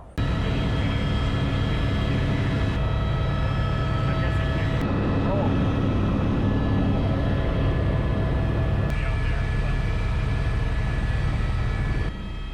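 A helicopter carrying a 1200-pound sling-loaded I-beam drones steadily with a loud, constant rotor and turbine roar that holds for several seconds, its tone shifting slightly as it flies.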